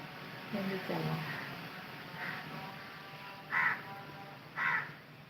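A crow caws a few times outdoors, faint and somewhat distant, with short harsh calls spaced a second or so apart over low background noise.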